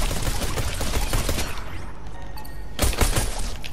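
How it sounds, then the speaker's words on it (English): Rapid gunfire in the zombie-survival mode of the video game Fortnite, a dense run of shots that fades midway and then returns as a louder burst near the end, with no talking. "I ran out of pistol ammo!"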